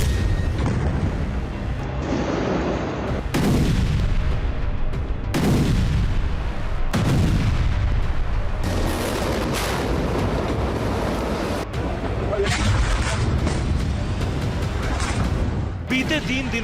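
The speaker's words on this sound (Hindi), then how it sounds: "लाइव रिपोर्टिंग के दौरान रॉकेट विस्फोट हुआ है" Rocket explosions in a Gaza war zone: a series of loud, heavy booms with long rumbling decays, roughly every one to two seconds, over a constant background roar.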